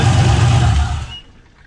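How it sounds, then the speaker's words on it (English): A 6.0 L turbo diesel truck running with a loud, steady low rumble and broad whine from a transmission fault, then cutting off sharply after about a second as the engine shuts down. "Something in the transmission's making that noise."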